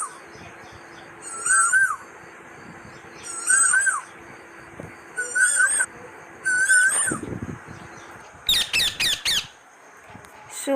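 Repeated whistled bird calls of the koel ring out at intervals, several separate phrases spaced a couple of seconds apart, with a faster burst of rising notes near the end over a low background hum.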